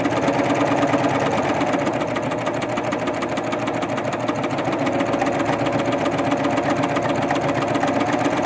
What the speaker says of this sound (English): So we'll start serging.